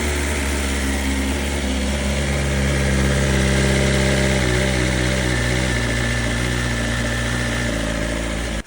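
A BMW S1K motorcycle engine idles steadily and loudly up close, with a continuous low rumble and even mechanical hum that holds the whole time before cutting off abruptly at the end.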